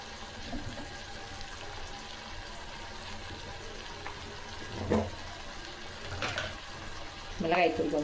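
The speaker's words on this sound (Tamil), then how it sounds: "குழம்பு இந்த பக்கம் நல்லா கொதிக்குது." Kuzhambu curry bubbles in a pot on the stove, a faint, steady simmering hiss with soft pops and occasional louder clinks and splashes.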